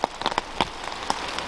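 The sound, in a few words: heavy rain falling in a forest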